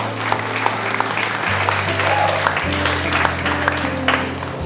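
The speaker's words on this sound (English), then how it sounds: "Let's get a round of applause for the bride and bridesmaids." A wedding reception crowd claps steadily in applause for the bride and bridesmaids, a dense patter of many hands over a low hum, with a few louder claps and faint voices.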